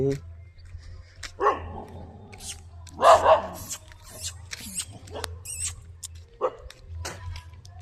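A dog barking in a few separate short bursts nearby, between stretches of casual talk from people.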